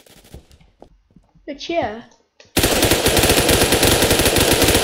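Gunfire in a first-person shooter video game erupts suddenly as a loud, continuous automatic burst after a short spoken remark and a rising voice, dominating the rest of the moment.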